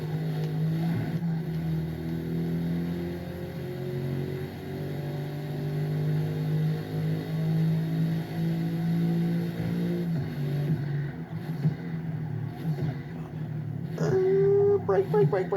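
Racing-game engine drone of a standard Mercedes sedan in Forza Motorsport holds a steady revving tone, dips under braking, then climbs again as it accelerates, while someone talks over it throughout.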